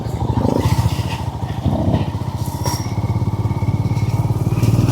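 A motorcycle rides an off-road track at Chathurangapara, its engine close and loud with a steady, throbbing pulse and slight surges in revs throughout.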